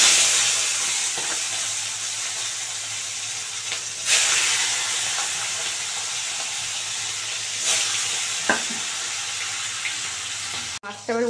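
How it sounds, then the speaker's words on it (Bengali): Fish frying crisp in hot oil on a home stove fills the clip with a steady, fairly loud hiss and sizzle, broken by a few brief pops and spatters. "বন্ধুরা তেল গরম হয়ে গেছে, এবার মাছটা ভালো করে কড়া করে ভেজে নেব।"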